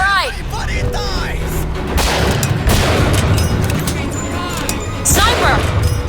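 Sniper fire in the BioShock Infinite video game, with loud, heavy shots and booming bursts crashing over continuous battle noise, while voices call out in the clip.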